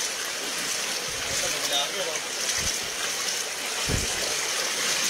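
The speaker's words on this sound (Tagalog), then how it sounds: "Pinasok na yung bahay ng baha." Flood water pours into a house, making a steady rushing, gurgling flow with occasional low sloshes, while indistinct voices sound faintly in the background.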